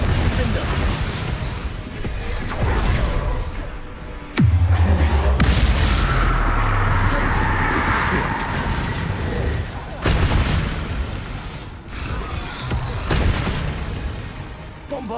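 A Bombarda spell explosion in the Hogwarts Legacy video game gives a loud booming blast, followed by rumbling and crackling aftermath and a few more thuds, with voices speaking throughout.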